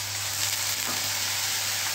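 Garlic sizzles in hot oil already tempered with mustard seeds and asafoetida for a Gujarati mixed vegetable sabji, a loud continuous frying crackle with no talking.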